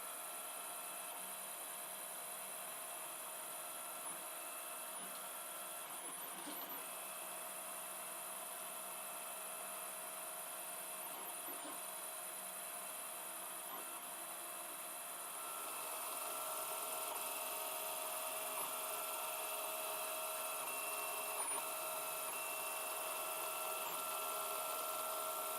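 A 3D printer with BL Touch auto tramming runs a print at 20% infill, its Z threaded rods turning slightly; a steady mechanical hum and whir holds for the whole stretch at low level, growing a little louder partway through.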